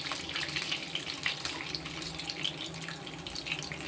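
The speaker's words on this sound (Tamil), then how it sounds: "இந்த எண்ணெயில் போட்ட கடுகு சட்டு சட்டுன்னு தெரிச்சிருச்சு" Mustard seeds and urad dal spluttering in hot oil in a pan while kara paniyaram is being made, a soft, close crackle of small rapid pops over a low sizzle.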